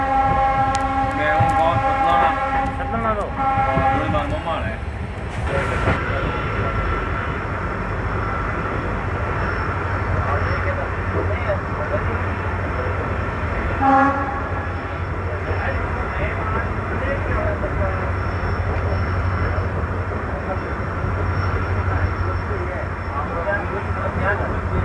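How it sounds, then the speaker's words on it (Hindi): An Indian Railways intercity train hauled by a WDP4D diesel locomotive arrives at Bhagat Ki Kothi, with a loud blaring horn at the start followed by steady rumbling wheels and engine drone, while a person talks. "भगत की कोठी अराइवल ले लिया है अपनी ट्रेन ने"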